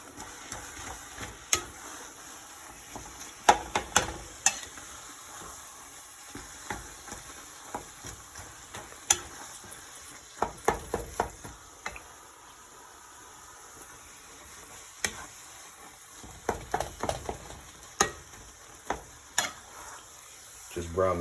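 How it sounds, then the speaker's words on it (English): Ground turkey browns in a frying pan with a constant low sizzle, punctuated by irregular clicks and scrapes from stirring, close by and with no voices. "Just brown the turkey meat just like this"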